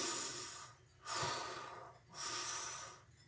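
A voice imitates heavy breathing, with three slow, loud, drawn-out breaths separated by short pauses, heard up close.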